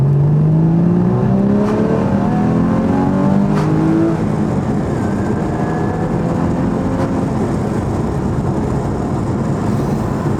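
A Porsche GT4's engine climbs through the revs in a loud, close, continuous drone with rising harmonic tones that fade into steady road and wind roar as the car drives on.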